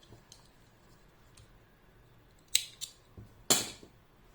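Scissors cutting crochet yarn, two or three quick close snips in a quiet room after a faint tick or two.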